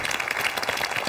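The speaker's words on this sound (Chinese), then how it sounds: "来，掌声。" A studio audience at a televised debate show applauds, a dense, steady wash of clapping that fills the short moment with no voices over it.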